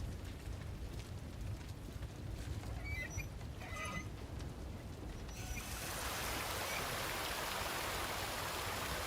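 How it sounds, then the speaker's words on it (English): Steady rain in the Resident Evil 2 video game, a continuous broadband hiss that grows denser and louder about halfway through, with a few faint tonal blips early on and no talking. "It's already raining."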